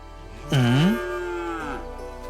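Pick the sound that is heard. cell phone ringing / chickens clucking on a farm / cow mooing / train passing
cow mooing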